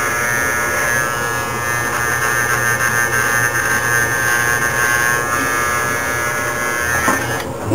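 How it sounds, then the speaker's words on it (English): An electric shaver buzzes steadily and close up as it runs over a bald scalp, a continuous motor drone with slight shifts in pitch as it moves across the skin. "I do very similar techniques on my scalp with my shaver."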